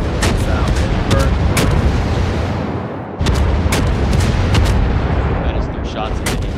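Naval guns boom in World of Warships, with repeated sharp, loud salvos cracking over a constant roaring battle din.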